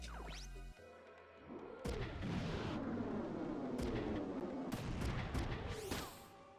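Mech gunfire in the video game Front Mission 3, a sharp impact followed by a dense, sustained roar of rattling shots and crashing booms, loud and continuous, no talking.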